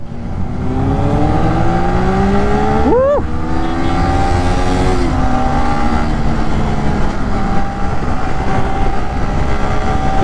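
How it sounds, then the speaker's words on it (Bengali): A lorry speeds past at full speed on a road: a loud, steady engine and road roar fills the whole stretch, with a brief rising horn-like tone partway through. "ও ভাই পুরো উড়ে আসলো লরিটা, পুরো ফুল স্পিডে"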